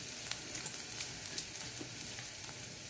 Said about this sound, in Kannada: ಸಣ್ಣದಾಗಿ ಹೆಚ್ಚಿಟ್ಕೊಂಡ ಬೆಳ್ಳುಳ್ಳಿಯನ್ನು ಹಾಕ್ಕೊಳ್ತಿದ್ದೇನೆ